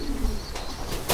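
Pigeons coo softly in a short, low murmuring call, heard close and alone without talk.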